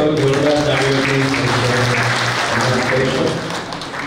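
Audience at a Bhagirath Jan Kalyan Rath Yatra event in Bhanvad claps to welcome the coordinator, loud sustained applause under a voice amplified over a PA, fading slightly at the end.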